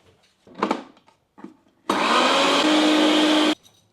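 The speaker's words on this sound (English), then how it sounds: "So here I have my 50 grams of oats, my open funk blender. Let's blend." A blender grinds 50 grams of oats into flour in one loud, steady burst lasting under two seconds, after a few soft handling clicks in a kitchen.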